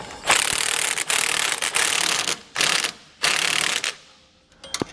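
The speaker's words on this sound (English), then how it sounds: "So now we'll tighten up our end links here, and we're gonna wanna make sure that they are snug." A wrench ratcheting as it tightens sway bar end links on a 2008 Freightliner, loud close bursts of rapid clicking in several strokes separated by brief pauses, with no talking.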